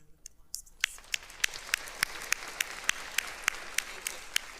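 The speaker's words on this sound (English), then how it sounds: "I'd like to give them a round of applause, please." Applause at a 2023 preparatory school graduation ceremony, building from a few scattered claps into a steady round of many hands, with sharp individual claps standing out near the microphone.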